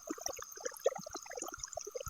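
Water from a submersible pump pours and bubbles into a flooded rice paddy, a busy stream of small splashes and gurgles at close range.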